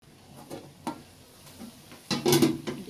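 Stinging catfish and raw green banana pieces are stir-fried in a pan, giving a few separate scraping strokes over a light sizzle and then a louder, busier burst of stirring near the end.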